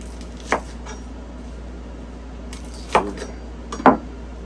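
Onions being chopped for spicy pickled quail eggs: three separate knife strikes on a cutting board, spaced a second or more apart, close and fairly crisp over a steady low room hum.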